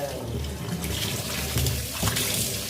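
Greens being rinsed by hand in a basin of water, giving steady close splashing and sloshing with a few louder swishes, no talk.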